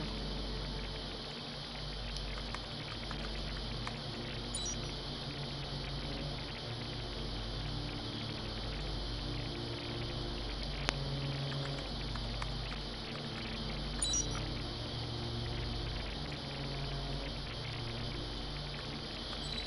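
Steady rain and running water filling a stone well in the video game Heavy Rain, a continuous dense patter with low rumbling ambience, unbroken and even in level throughout.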